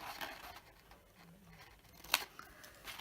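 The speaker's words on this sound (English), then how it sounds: "you want to cut down to a second score line in the middle too" Scissors cutting scored card for a dimensional flower-shop card and box, heard as one sharp, close snip amid quiet room rustling.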